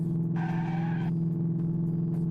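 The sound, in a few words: car chase in a video game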